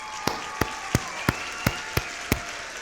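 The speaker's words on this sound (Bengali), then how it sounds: "আপনারা সকলে হাততালি দিন।" Seven sharp, evenly spaced hand claps ring out in a steady beat, fairly close, with a faint whistling tone running underneath and no voices.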